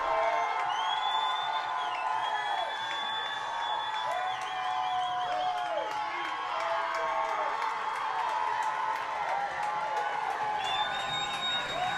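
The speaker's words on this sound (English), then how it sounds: "Can hear it from the Blackhawk crowd." The Blackhawk crowd at a high school varsity football game cheers and shouts with rising whoops and calls, a continuous roar of voices in the stands with some clapping mixed in.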